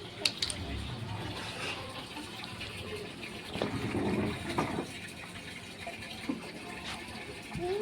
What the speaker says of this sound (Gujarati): આપણો પાણીનો ટાંકો ભરાવા આવી ગયો છે